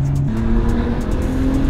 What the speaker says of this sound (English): Did you hear my car?